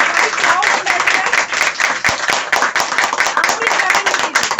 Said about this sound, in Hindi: बहुत जोरदार तालियां हमारी क्राउन एम्बेसडर